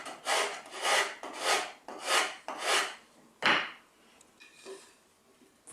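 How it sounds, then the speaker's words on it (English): Close, loud sanding on the end of a wooden tool box board: five steady rasping strokes in a regular back-and-forth rhythm, then a sharper scrape and a few lighter, fainter strokes, with no talk. "For sanding the ends, you want to sand downhill like this, not uphill like this"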